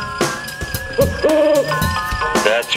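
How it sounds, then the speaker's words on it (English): An owl hoots several times in short, close calls, some rising and wavering, against a steady background hum. "That's probably just an owl."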